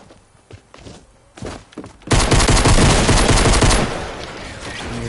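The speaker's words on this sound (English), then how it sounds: "Shotgun." Shotgun fire in Fortnite: after a few scattered thumps, a loud, close blast breaks into a continuous roar of gunfire that stays intense until the end, with no voices.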